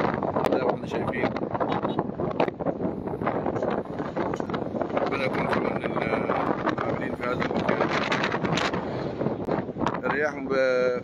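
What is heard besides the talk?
gusting wind of a dust storm on highway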